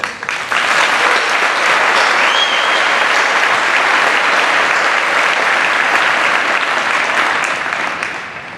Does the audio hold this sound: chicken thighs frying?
no